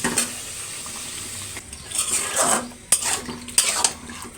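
Meat being stirred and fried in a pan, with a utensil scraping and clattering against the metal in irregular bursts over a steady sizzle, close up and with no talk.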